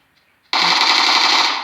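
Automatic gunfire in the PUBG Lite video game: a brief quiet opening, then a sudden loud, sustained burst of rapid shots that keeps going for over a second.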